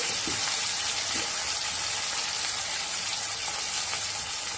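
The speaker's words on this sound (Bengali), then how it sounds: "আর সামান্য হলুদ দিয়ে আলুটা ভেজে নেব" Cut potato pieces fry in oil with salt and a little turmeric, cooking for a rohu fish curry. A continuous, even sizzling hiss fills the close-up sound, with faint clicks and no voices.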